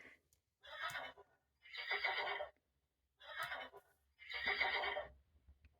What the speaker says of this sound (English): And the happy horses neigh.